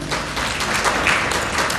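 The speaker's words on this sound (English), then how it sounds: "An applause for Governor Lusaka." A conference audience at a devolution gathering bursts into dense, continuous applause for Governor Lusaka, filling the hall evenly from start to finish with no talk on top.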